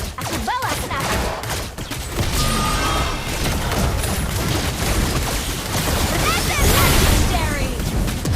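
Rapid gunfire from Layla in the mobile game Mobile Legends, crackling almost nonstop amid dense battle effects and bursts, with character voices speaking over the shooting.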